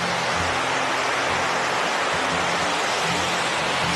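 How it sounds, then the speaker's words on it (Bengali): A river in the monsoon-season Dooars near the India–Bhutan border rushes steadily below a stone stairway, a loud, dense, unbroken roar of flowing water with no voices. "যা নদীর আওয়াজ আছে"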